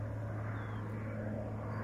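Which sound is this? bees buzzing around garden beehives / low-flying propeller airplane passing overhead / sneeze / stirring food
low-flying propeller airplane passing overhead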